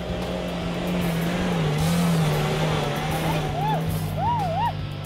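A small 1.3 litre Suzuki Jimny engine revs hard near the red line at a distance, rising and falling whines under a narrator's voice.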